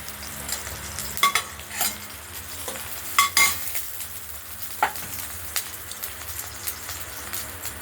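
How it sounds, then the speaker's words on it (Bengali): Thinly cut potatoes fry in a pan with a steady sizzle, punctuated by sharp scrapes and clinks as a utensil stirs them, close and fairly loud, with no voices. "আলু ভাজাটা আমরা ভেজে নিলাম।"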